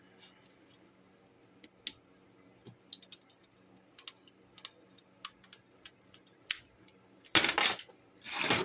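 Stained glass snapping and cracking under a glass cutter and breaking pliers, a series of sharp close clicks and ticks ending in a louder crunching break with rattling glass pieces.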